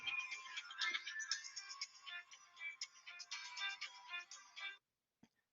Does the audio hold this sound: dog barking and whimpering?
no